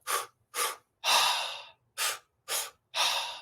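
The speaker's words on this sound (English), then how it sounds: "inhale, inhale, exhale. And it's stomach, chest, mouth, stomach, chest, mouth." Rhythmic breathing in a steady pattern: two quick sharp inhales followed by a longer exhale, repeated twice, close and clear with no talking.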